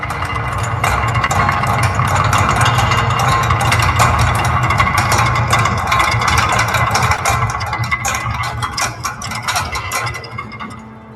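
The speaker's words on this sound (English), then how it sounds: "you notice the sound of the very old gears" Very old gears grind and rumble continuously as a makeshift elevator is hauled up by ropes and chains, a loud, dense mechanical drone with faint rattling throughout.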